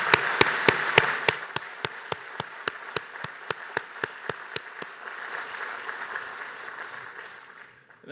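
A single slow, evenly spaced run of loud hand claps, as if one person is clapping, over a steady crowd murmur that fades out, at the ICANN55 opening ceremony.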